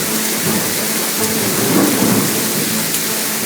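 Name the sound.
thunder and heavy rain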